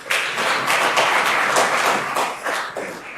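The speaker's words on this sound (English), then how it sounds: "How about a round of applause for that?" An audience at the IP Alliance Conference gives a burst of applause, a dense, close wash of many hands clapping that swells and then gradually thins.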